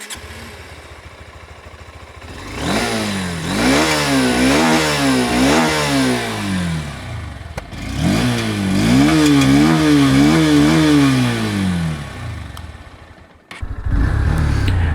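A Honda CB200X motorcycle exhaust is revved hard in repeated bursts, each one climbing and falling back to idle, loud and close with no talk.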